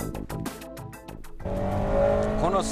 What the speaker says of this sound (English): It's amazing how well this car runs on a slippery track.